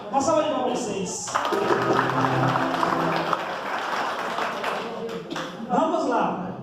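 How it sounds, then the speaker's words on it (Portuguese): A church congregation applauds during a novena service for Saint Joseph, a broad sustained wash of clapping lasting several seconds with voices and music-like tones mixed underneath. "Uma salva de palmas pra vocês."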